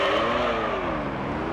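A race car engine revs hard in a GT3 racing video game, a loud sustained whine that rises and bends in pitch as it accelerates, heard alone without speech.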